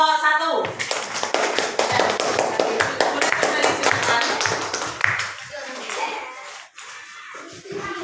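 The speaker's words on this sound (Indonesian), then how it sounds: "Ya, tepuk tangan untuk kelompok 1." Schoolchildren in a classroom clap for group 1, a dense burst of hand claps that fades after several seconds, followed by scattered shuffling and a few children's voices.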